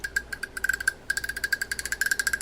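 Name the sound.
fishing reel click ratchet spooling backwards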